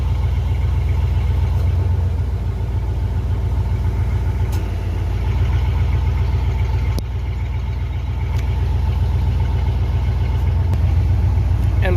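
A 1994 Ford F-150 idles with its exhaust cut off, a loud, close, deep rumbling drone with a steady throb that dips briefly partway through and then settles back, with no voices.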